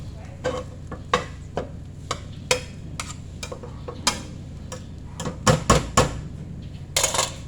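A utensil stirs Filipino garlic fried rice with hotdog and egg in a pan, giving a steady run of close, crisp scraping clicks and ticks at an irregular rhythm, a few sharper clusters near the end, over a soft sizzle.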